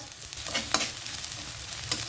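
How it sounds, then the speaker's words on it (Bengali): Chopped onions fry in mustard oil in a kadai with a steady, close sizzle, broken by a few sharper crackles and stirring scrapes. No voices are heard. "হাফ কাপ পরিমাণ সরিষার তেল দিচ্ছি কুচি করা পেঁয়াজ এক কাপ পরিমাণ পেঁয়াজ"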